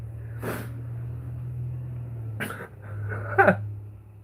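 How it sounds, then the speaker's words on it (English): A dog entering a room gives a few short, separate sniffs, snorts and a whimpering yip over a steady low electrical hum. "Oh, the Murph dog comes in hot."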